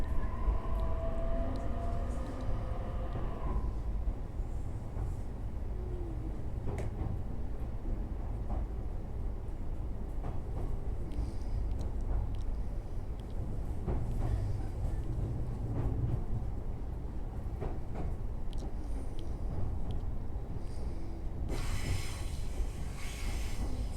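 JR East E531 series set K472 runs as a local train for Iwaki on the Joban Line between Izumi and Yumoto, slowed by strong winds. A steady, close rumble of wheels and motors carries on throughout, with a brief tonal sound at the start.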